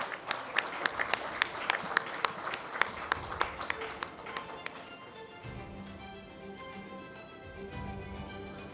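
Audience at an awards event greets a winner with sharp, scattered claps over the first few seconds, thinning into a busier murmur of crowd sound and scattered hand claps later on.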